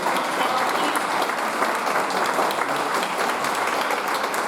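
Audience applause at a board of education meeting, a sustained, even wash of many hands clapping in a hall, loud and steady throughout.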